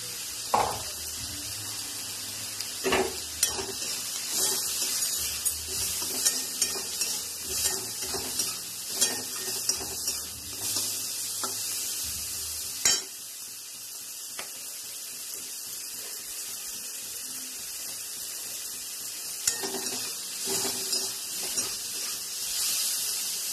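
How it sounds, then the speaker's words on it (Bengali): Prawns fry in a pan with turmeric, red chili powder and green chilies, a steady bright sizzle with occasional clinks and scrapes of stirring scattered throughout; no talking. "চিংড়ি মাছটা প্রায় ভাজা হয়ে গেছে।"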